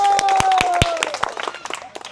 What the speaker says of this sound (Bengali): সবাই করতালি দেই।